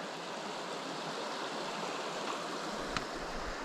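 River stream flowing near a mountain pond: a steady, broad rushing wash of water, moderately loud and constant throughout, with no voices.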